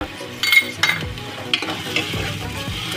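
Minced keema fries with ginger garlic paste in a pan, a steady sizzle broken by scraping stirs and light clinks of the utensil against the metal, close and continuous, with no talking.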